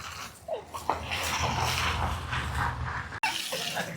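Children bathing outdoors splash water, with several soft splashes and a trickle of running water under a continuous background wash, plus a sharp knock near the end.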